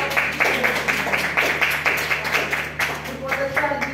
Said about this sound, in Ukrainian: включимо і оплески, ми зустрінемо його.